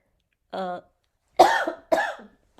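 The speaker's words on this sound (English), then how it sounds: "oh my goodness, what a bad cough I'm having." A short vocal sound is followed by two harsh, close coughs in quick succession, with brief silence between them.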